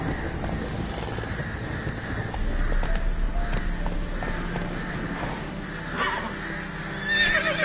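Roach the horse in The Witcher 3 gives a loud neigh at the close, preceded by hoofbeats clip-clopping at a steady gait over a low rumbling game soundscape.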